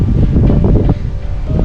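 Wind blows across a hilltop at Ponmudi hill station, a dense, continuous roar buffeting the microphone from start to finish with no talking.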